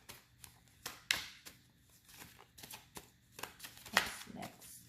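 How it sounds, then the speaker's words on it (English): Tarot cards being shuffled by hand, a series of soft riffling bursts and taps in an uneven rhythm, close and fairly quiet, with no talking. "So I'm just going to jump right into the shuffle."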